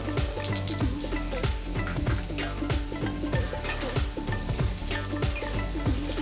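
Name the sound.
potato pieces frying in hot oil in a kadhai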